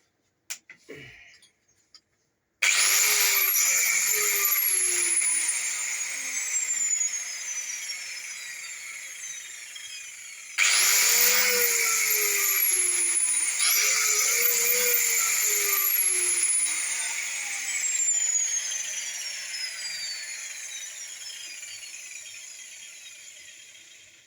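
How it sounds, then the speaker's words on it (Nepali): A power cutting machine for tile, marble and wood starts up after a few clicks, its motor whining loudly and close, then winding down in a falling pitch, restarting and spinning down again twice. "यो चाहिँ मेसिन टाइल काट्नु पनि हुन्छ मार्बल काट्नु पनि हुन्छ काठ काट्नु पनि"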